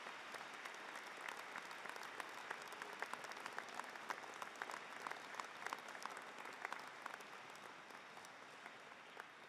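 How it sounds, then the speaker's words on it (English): Sustained applause from a large crowd at a graduation ceremony, dense and steady clapping throughout with no voices standing out. "many friends and family who are applauding themselves"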